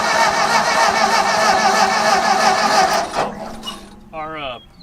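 An abandoned tractor engine, started after sitting unused, runs with a loud, steady, buzzy chug at close range for about three seconds, then cuts out and leaves brief clatter and a voice speaking.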